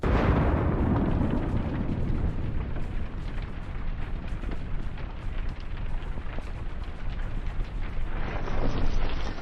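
A huge tank explosion erupts at the start, then a long roaring rumble of debris and fire that stays loud, swelling again near the end.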